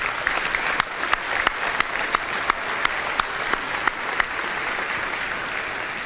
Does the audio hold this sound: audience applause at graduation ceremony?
yes